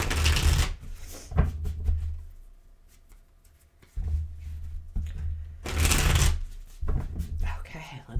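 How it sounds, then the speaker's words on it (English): Tarot cards are shuffled in several loud riffling bursts separated by quieter pauses, close and crisp. "A couple more shuffles."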